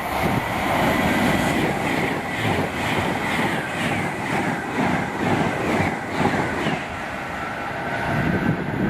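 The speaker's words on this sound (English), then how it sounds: "we've got another Pendolino, I believe heading to Glasgow Central." A Pendolino train passes at Nuneaton on the West Coast Main Line, its rumble rising and falling with rhythmic wheel clatter over the rail joints, close and steady and without voices.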